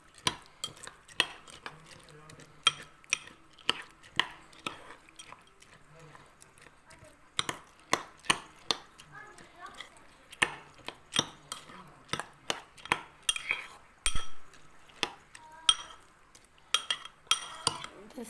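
A spoon stirs soaked sago pearls with yogurt and water in a bowl, giving repeated sharp clinks and scrapes against the bowl in an irregular rhythm, close and fairly loud with quiet gaps between strokes.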